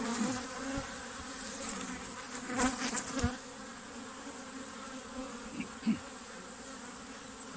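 A dense, steady buzzing of many honeybees at a hive fills the air, with a few louder bees passing close and faint clicks and bumps.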